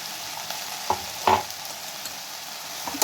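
Spices and a pinch of turmeric fry in a pan for a drumstick, brinjal and potato sambar, a quiet continuous sizzle broken by a few clinks and scrapes of a stirring spoon.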